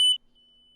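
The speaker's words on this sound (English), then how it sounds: "Do you have a fire alarm" A smoke alarm gives a sharp, high electronic beep, then a faint lingering tone and a second loud beep, heard alone and close by.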